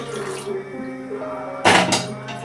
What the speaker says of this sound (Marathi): याच्यामध्ये मी थोडं पाणी टाकते